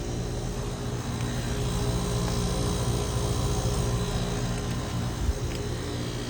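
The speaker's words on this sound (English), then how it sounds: "Here's an older Goodman. Has a Goodman reciprocating compressor. It looks to be heat pump." An older Goodman heat pump outdoor unit with a reciprocating compressor runs with a steady, dense droning hum and airy fan rush, constant in level throughout with no voices.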